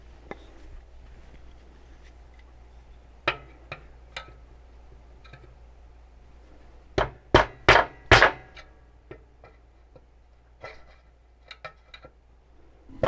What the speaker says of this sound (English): just a flat head screwdriver right there, and a hammer, and lightly tap that out